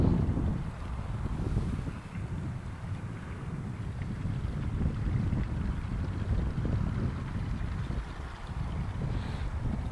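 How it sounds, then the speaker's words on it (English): Night wind beside a canal during carp fishing, a steady low rumbling roar buffeting the microphone, continuous and fairly loud for the full ten seconds, with no voices. "There's a nice wind on."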